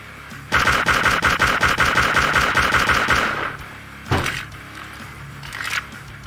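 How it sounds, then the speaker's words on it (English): Rapid automatic gunfire from a weapon in the video game SlendyTubbies 3, a loud sustained burst of about three seconds followed by a couple of single sharp shots, with no talking. "This gun is loud"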